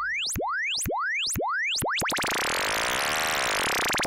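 A synthesized futuristic, cartoonish engine effect built from an oscillator with resonance: a run of repeated rising, swooping chirp tones that speed up and then merge into a dense, buzzing, sputtering drone, loud and close.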